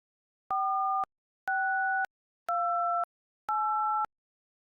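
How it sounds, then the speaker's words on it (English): Four evenly spaced electronic two-tone beeps, each about half a second long, resembling phone keypad tones, clean and loud with silence between. "the game tones sound surprisingly similar to a number pad"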